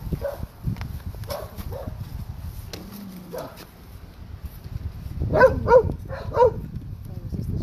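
A dog barks and yelps in short bursts, with a whimpering whine, over background noise and people talking.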